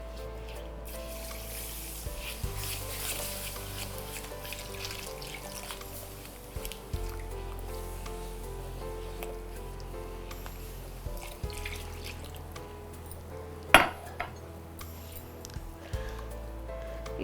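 Milk poured and stirred into a ghee and gram flour mixture in a pan for a Diwali sweet: a steady wet, liquid swirling over a constant low hum, with a sharp clatter near the end.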